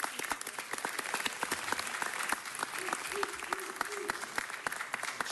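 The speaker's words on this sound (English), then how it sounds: "Let's give her a round of applause for that." An audience at a Nowruz celebration in Los Angeles City Hall applauds with dense, steady clapping that carries on for several seconds, fairly distant, with a voice faintly audible underneath.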